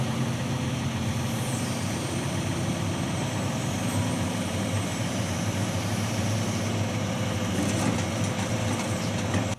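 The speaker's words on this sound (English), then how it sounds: "That's when another essential machine comes into play, the forwarder." A forestry forwarder's engine runs steadily as a loud, continuous drone with no break in its level.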